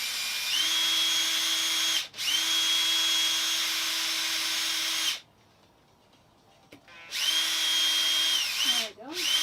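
Power drill driving into the fittings while a composting toilet is installed in a boat head, whirring loudly and steadily in two long runs, stopping for a brief pause, then spinning up again.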